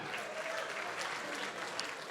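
An indoor crowd at a live boxing fight night gives a steady round of applause, with dense clapping that holds for the whole stretch at a moderate distance and no talk over it.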